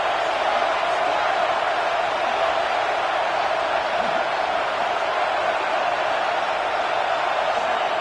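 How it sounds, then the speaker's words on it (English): Stadium crowd at a college football game roaring steadily and loudly throughout, a dense continuous wall of noise with no breaks while the defense is on the field. "Listen to this crowd just shaking the girders of this place trying to help their defense."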